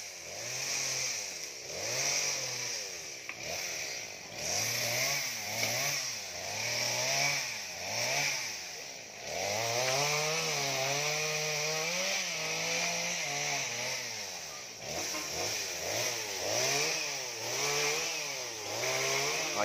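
A chainsaw cuts branches from two huge rain trees in Lạc Quế, its engine revving and bogging in repeated bursts that rise and fall in pitch, loud and close, with no talk.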